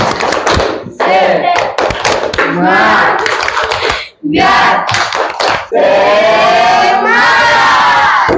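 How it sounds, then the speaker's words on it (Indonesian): Classroom of students at a teacher-training lesson doing the rhythmic tepuk semangat spirit clap, loud bursts of patterned clapping mixed with group chanting and shouts, with a brief pause midway before a sustained shout of voices. "Kita tepuk semangat dulu semua. Tepuk semangat."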